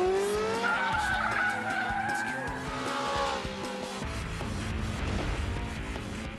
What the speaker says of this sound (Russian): Даже Казунори на потрясающем Mitsubishi Evo 8 с постоянным полным приводом выяснил, что слалом может его подловить.